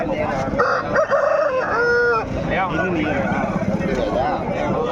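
Chilakamukhi breed roosters crow at the Pileru poultry market, several drawn-out, wavering crows following one another at close range over market chatter and voices.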